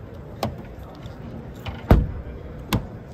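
Hyundai i20 N Line 2022 car door opened and shut, a few distinct thuds and clicks with a solid closing thump near the middle, close and clear against quiet background.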